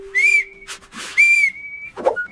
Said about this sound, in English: Toy whistle.